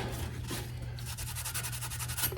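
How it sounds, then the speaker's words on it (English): A Scotch-Brite pad scrubs the rocker box surface of a 2009 Harley Electra Glide, giving quiet, continuous rubbing with soft repeated scratchy strokes close by. "Use a little bit of Scotch-Brite. Trying to wipe it out."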